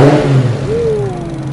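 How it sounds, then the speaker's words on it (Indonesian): A Nissan Cefiro's engine revs loudly through its exhaust, a brief throaty roar that rises then settles, close up. "Tapi suara knalpotnya yang seksi."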